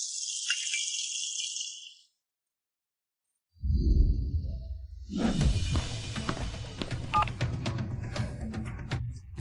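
A telephone keypad sounds a short burst of dialing tones, clear and alone, followed by a pause and then a busy rattling, clattering stretch of handling noise.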